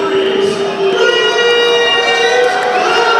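A loud, continuous crowd roar and cheering for fighter Reese Hernandez fills a fight event, sustained and close throughout.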